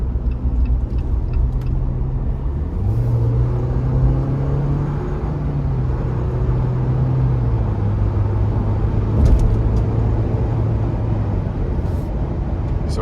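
A 2023 Jeep Wrangler Sport S two-door with the 2.0-liter turbo four pulls hard under acceleration, a steady loud engine drone rising in pitch through a gear change, heard from inside the cabin with road rumble and no talking.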